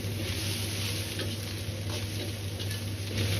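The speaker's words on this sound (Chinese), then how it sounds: "接着倒入白菜葉， 翻炒個10秒鐘左右" Napa cabbage leaves stir-fry in a hot wok with a steady, close, loud sizzle and faint stirring scrapes running throughout, no voices.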